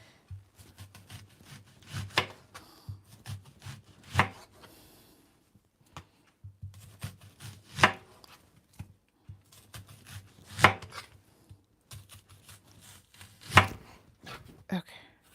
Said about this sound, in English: So I'm gonna cut and slice the onions.